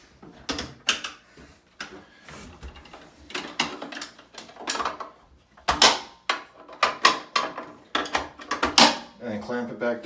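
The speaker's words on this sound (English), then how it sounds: "And then clamp it back down." Plastic clamps snap shut one after another on an Aquatop aquarium canister filter housing, with sharp clicks and clacks close by, heard under a voice.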